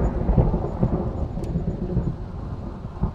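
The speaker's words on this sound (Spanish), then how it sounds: "La carga eléctrica de esta tormenta no parece natural." A thunderstorm with heavy rain on a night road, steady dense downpour with low rolling thunder rumbling throughout, close and loud with no voices.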